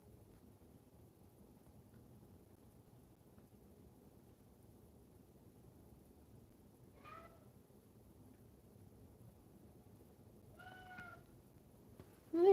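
A cat meows a few times in a quiet room, short rising calls spaced several seconds apart over faint background hiss.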